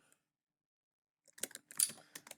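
Keys on a computer keyboard tapped in a quick run of clicks after a second of silence, close and fairly quiet, with short pauses between bursts of keystrokes.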